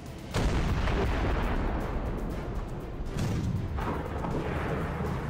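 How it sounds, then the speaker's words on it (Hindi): A powerful volcanic eruption blast in Ethiopia: a loud, sustained rumbling roar with a deep broadband boom that begins abruptly and continues throughout, swelling again near the end. "पहली बार किसी ज्वालामुखी में इतना जोरदार धमाका हुआ है"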